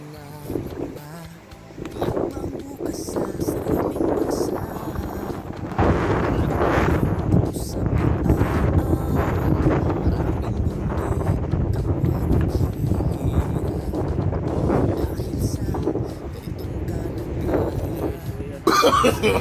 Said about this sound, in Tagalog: Dito tayo, lakas ng hangin